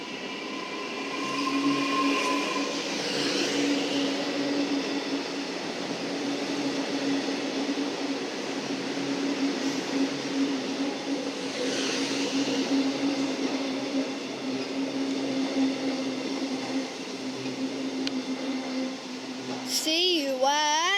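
A Metro train passes through North Melbourne station with a steady, loud rumble and hum that holds for about twenty seconds, with brief rising whines and a squeal of wheels near the end.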